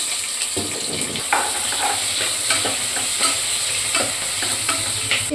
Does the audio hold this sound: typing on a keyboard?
no